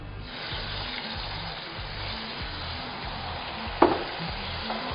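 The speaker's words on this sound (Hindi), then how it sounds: "और इसको अच्छी तरह चलाएंगे।" A pot of rice with spices and water is stirred, giving a soft simmering hiss with a rhythmic scraping of the spoon and one sharper clink near the end.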